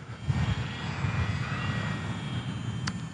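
An Eachine Mini P-47 RC warbird plane flying slowly into the wind, its small motor giving a steady buzzing drone at moderate distance with a faint whistle over light wind noise.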